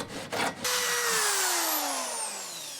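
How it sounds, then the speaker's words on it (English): An electric reciprocating saw cuts through plastic drain pipe for a garden French drain, starting after a brief stutter into a loud, steady, close whine that falls slowly in pitch as the blade works through, with no talking. "We tried a hacksaw, but the reticulating electric saw was much better."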